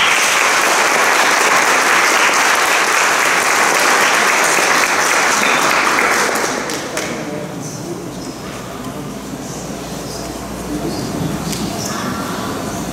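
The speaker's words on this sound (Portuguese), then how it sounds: "Uma salva de palmas." A congregation at a festive Catholic Mass breaks into loud, dense applause for about six seconds, then it thins into scattered claps and room murmur with voices underneath.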